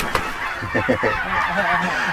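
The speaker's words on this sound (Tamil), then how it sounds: "இது வந்து மணி வாத்துங்க மணி வாத்து" Mani vaathu geese honking on a farm, a few short nasal honks in quick succession followed by softer lower calls, fairly close over a steady outdoor background.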